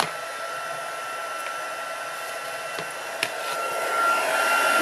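A heat tool used for card stamping blows steadily, a close, continuous whirring hiss like a hair dryer that holds even and swells slightly louder toward the end.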